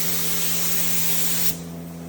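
Krylon spray paint hisses from an aerosol can onto a 1970 Plymouth Roadrunner body, one loud continuous close spray burst that cuts off abruptly, leaving quiet room tone.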